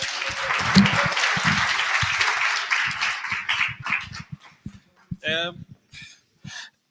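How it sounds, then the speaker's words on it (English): Applause at a launch event for a national code of practice, starting as a full round of clapping from the audience, then thinning out and fading to scattered claps and a few voices before quiet. "A round of applause once again."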